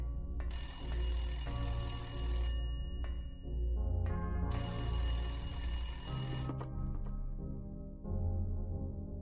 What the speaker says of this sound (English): we also find some phones, which don't seem to work at first, but then begin to ring just as Harry's about to leave the room.